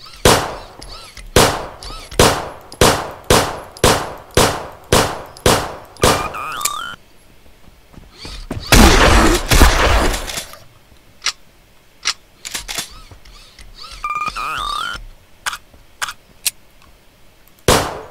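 Rapid gunfire in the zombie shooter Zompiercer: a steady run of sharp, evenly spaced shots, then a burst of loud noisy blasts, followed by more scattered single shots, all close and loud with no talking.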